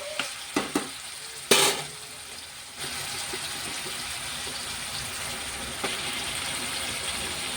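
Drumstick pieces go into a frying pan, with a few sharp clatters and a splashy burst before a steady, moderately loud sizzle settles in.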